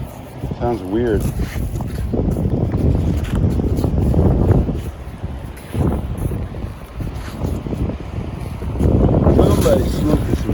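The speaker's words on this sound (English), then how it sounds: "Strong ass wind." Strong wind buffets the microphone outdoors during a metal detecting outing, a loud broadband rumble that rises and falls in gusts throughout, with people talking over it.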